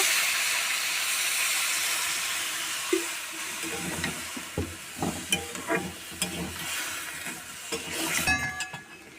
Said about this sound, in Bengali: তো এখন আমি এর মধ্যে জল অ্যাড করে দেব, বেশি দেব না, হালকা জল দেব।